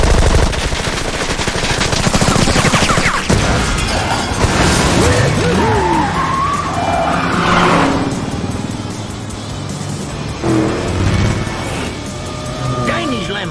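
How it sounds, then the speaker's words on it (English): Gatling gun firing in the Cars 2 video game, rapid bursts of gunfire over racing car engines, crashes and game effects, with character voices talking throughout. "Gatling gun activated."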